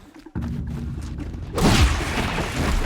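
A sudden burst of game noise kicks in in Horizon Zero Dawn, followed by a loud, booming explosion with a sweeping rumble that lingers and stays dense afterward.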